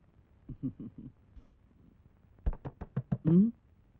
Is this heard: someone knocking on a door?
yes